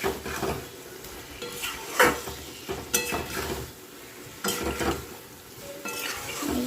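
Vegetables are stirred with spices in a pan for a potato and pepper curry with lentil fritters, the spoon scraping and clinking in repeated strokes over a soft sizzle, close and moderately loud with no voices.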